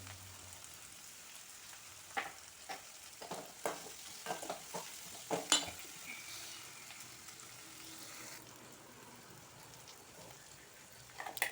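Onions sauté in a pan for a pulicha keerai (gongura) dish, a soft steady sizzle broken by scattered scrapes and taps of stirring, close and fairly quiet.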